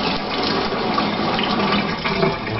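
Tap water runs steadily into a sink while greasy, olive-oil-coated hands are washed in a home kitchen, a continuous close rushing with slight splashing and no speech.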